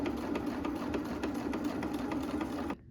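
A sewing machine runs steadily, stitching through folded fabric layered with paper, a close, even mechanical whir with rapid needle ticks that stops abruptly near the end.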